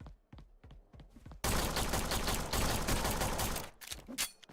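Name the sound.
pistol shots in the video game Forgive Me Father 2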